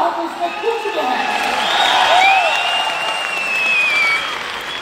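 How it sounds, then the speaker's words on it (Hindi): An audience at a seminar in a Delhi stadium applauds with continuous, moderately loud clapping that swells slightly in the middle, while a voice talks over it. "इतनी कम तालियां आप बजाएंगे"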